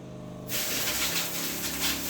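A forceful, steady hiss of spray starts abruptly and keeps going, close and loud.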